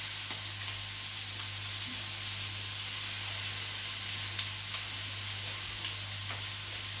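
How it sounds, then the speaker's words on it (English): Asparagus sizzling on a hot griddle beside a steak, a steady, even hiss and crackle heard up close and alone, with no talking. "And put some beautiful asparagus inside."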